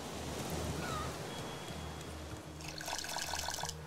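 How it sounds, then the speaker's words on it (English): Water bottle filling in the survival video game Raft, a soft trickling, splashing stream under a low steady game hum, with a brighter rhythmic burst of game effects toward the end. "Right, I've got a full bottle of water, which is what I needed."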